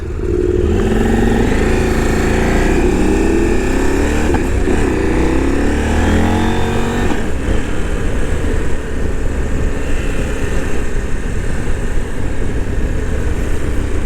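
A KTM 890 Adventure motorcycle engine revs loud and close, a deep rumbling roar rising and falling through several throttle blips with small backfire pops.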